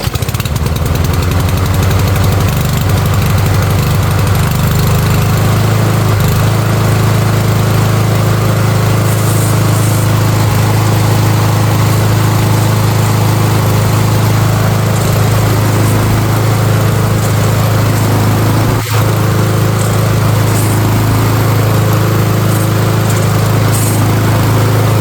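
An MTD Powermore lawn mower engine runs loud and steady with a constant droning hum and no break, close by and alone, with no talking.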